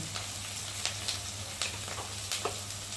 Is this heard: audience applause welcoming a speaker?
no